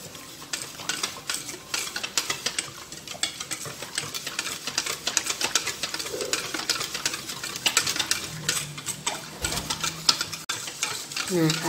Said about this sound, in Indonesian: saya masukkan sisa air semua ya. Lalu ini dicampur kembali.